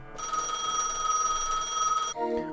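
Telephone ringing in the Gas Station Simulator video game, a steady electronic ring that sounds loud and continuous for about two seconds and then cuts off, with no talking.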